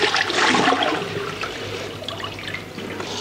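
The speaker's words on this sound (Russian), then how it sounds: "последний раз мы сливаем воду с первого замачивания" Water pours and trickles as it drains off malt grain after its first soak, a steady close gush that thins toward a dribble, with no talk.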